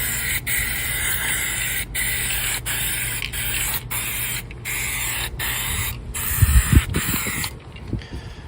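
Aerosol can spraying HyperDip wet coats onto a Ford F-350 Super Duty badge: a run of short hissing bursts in quick, fairly regular succession, close and loud, with some handling knocks near the end.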